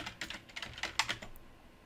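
Quick bursts of keystrokes on a computer keyboard, close and crisp, rattling in an uneven rhythm for about a second before trailing off.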